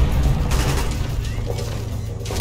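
A grenade explodes in Call of Duty Black Ops, a deep booming blast with rumbling low end and scattered crackling gunfire around it, loud and close.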